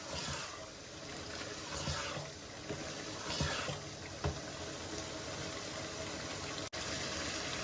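Chana dal frying in a pan with crushed dried fenugreek leaves and black pepper, a steady soft sizzle and crackle that runs throughout with occasional faint stirring clinks.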